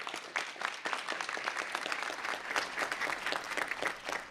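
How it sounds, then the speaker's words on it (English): An audience at a city council meeting gives sustained, evenly textured applause for several seconds with no talking. "So round of applause for all of you."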